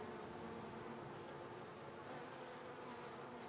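Honey bees swarm around beehive nucs, making a continuous, even buzzing drone of many insects close by with no talk.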